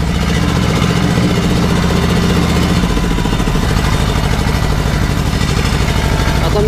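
An Ursus C 325 tractor engine idles close by after warming up, a steady low rumbling throb that shifts slightly in pitch partway through, with no voices.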